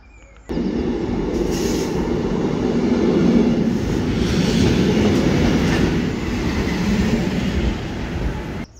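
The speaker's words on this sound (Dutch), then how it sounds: "Zo, de trein is gearriveerd." A train arriving at a station in Belgium rumbles and rattles loudly at close range, a sustained roar with clatter from the cars, starting abruptly and fading slightly at the end.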